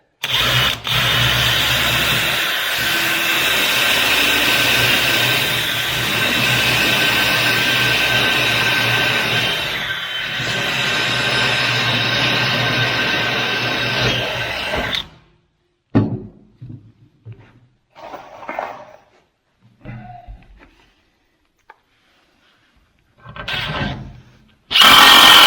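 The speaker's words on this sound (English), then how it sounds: "Nice sharp drill bit." A power drill bores through material with a sharp bit, a steady loud whine and grind for about fifteen seconds, then stops, followed by scattered short knocks and a brief final burst of drilling.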